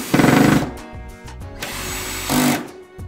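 Power drill or driver tightening screws through metal fixings to mount a 2N IP Base intercom on a wall, heard as a loud whirring burst, a quieter stretch of handling, then a second short burst near the end, with no speech.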